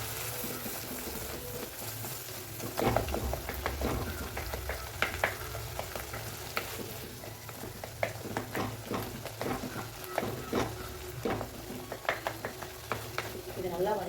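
Onions frying with a pinch of turmeric in a pan for drumstick sambar, a constant soft sizzle broken by repeated clinks and scrapes of a spoon stirring, close up with no speech.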